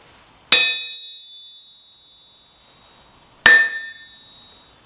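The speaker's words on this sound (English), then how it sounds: "a cast steel anvil has a very loud, very high-pitched kind of piercing ring when it's struck" A cast steel anvil, not secured down, struck twice by a hammer; each loud, sharp strike rings into a long, piercing, high-pitched tone that sustains for seconds.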